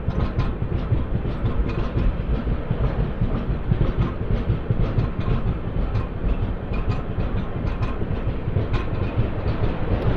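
Janmabhoomi Superfast Express 12806 runs at speed, a loud steady rumble heard from on board with dense clattering wheel beats and rattling carriages throughout.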